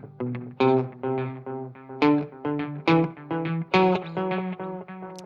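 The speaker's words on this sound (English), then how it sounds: "So here's a stereo delay" A clean electric guitar through a stereo delay pedal plays a slow string of plucked notes, each one trailing off into echoing repeats that blur into the next.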